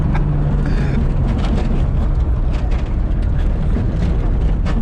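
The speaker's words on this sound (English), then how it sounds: "I'm driving a Porsche through the dirt and I'm not worried about anything" A Porsche 911 Safari rumbles through dirt with steady, loud, close engine and road roar. Gravel and tyre noise crackle over a heavy low drone, with no talking.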